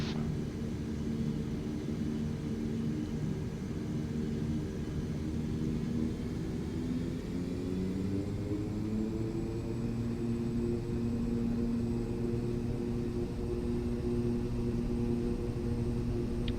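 Lancair EVO propeller plane in the X-Plane 12 flight simulator, throttling up for takeoff: a loud, steady engine drone and rumble that holds throughout, rising slightly in pitch partway through.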